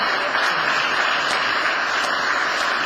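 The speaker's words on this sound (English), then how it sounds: "Let's give Soeren another round of applause" Sustained applause from an audience in the Illinois Senate chamber, a steady broadband wash of many hands clapping at even loudness throughout, with no clear talking on top.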